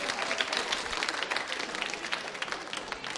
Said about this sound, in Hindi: तालियां जोरों से बजाइए रेहान सिंह जी के लिए।